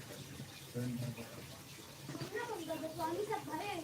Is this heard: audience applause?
no